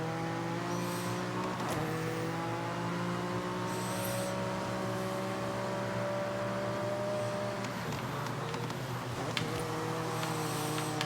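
A Schuppan 962 CR race car in Forza Horizon drives with a steady, sustained engine drone and rising harmonics, loud and close, with brief tire squeal around the middle of the run.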